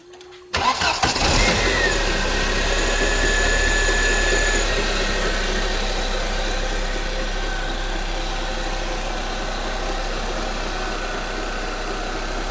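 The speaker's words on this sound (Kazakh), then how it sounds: "Қазір от алдырып көреміз." A car engine cranks and fires after a repair for overheating, then settles into a steady, loud idle that runs on alone with no talk.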